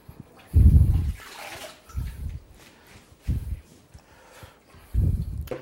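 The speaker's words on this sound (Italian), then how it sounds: "Sono passati 20 secondi e noi tiriamo su la nostra insalata e le mettiamo nel nostro asciugatoio." Lettuce lifted out of a basin of washing water and dropped into a salad spinner: four separate splashy, dripping bursts, close and fairly loud, with quiet pauses between them.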